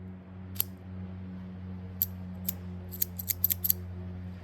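A cigar cutter snipping a cigar, heard as several sharp, crisp clicks: one near the start, then a cluster of quick snaps toward the end, over a steady low hum.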